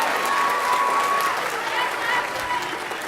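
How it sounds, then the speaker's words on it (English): Audience applause fills a school auditorium after a beginning band's winter holiday concert, steady dense clapping from a large crowd with a faint tone and murmured voices mixed in. "give another big round of applause for our beginning band"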